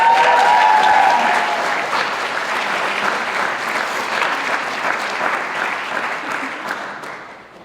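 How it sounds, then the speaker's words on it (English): Sustained, even applause fills a hall at an Indigenous student graduation ceremony, strongest at the start and slowly tapering over several seconds, with no speech over it. "Round of applause for Serena"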